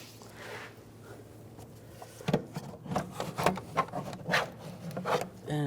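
Plastic air intake snorkel being pulled out of the engine bay of a 2013-2016 Dodge Dart 2.4L, a quiet start, then a series of close scraping, rubbing knocks as it slides free over about three seconds.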